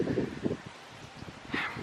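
Gusts of icy cold wind rustle garden plants in short close bursts of leafy swishing and buffeting, faint and brief, with no voices.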